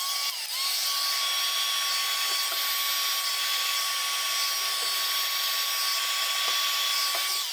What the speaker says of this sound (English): now using a heat gun, we'll heat up that heat shrink